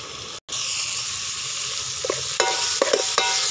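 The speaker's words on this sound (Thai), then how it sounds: "ขัวเครื่องใส่น้ำมันจักหน่อย" A spice paste fries in hot oil with a steady close sizzling hiss, briefly cut off near the start, then a few scraping stirs and pops toward the end.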